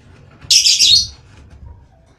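A pet paradise parrot gives one short, bright, high chirp at close range, followed by quiet room background.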